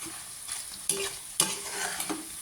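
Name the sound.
shrimp frying in a pan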